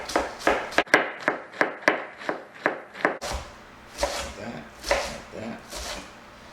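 A knife cuts a cabbage in half on a board with a quick run of crisp, evenly spaced strokes, close by, then slower, heavier crunching as the blade pushes through.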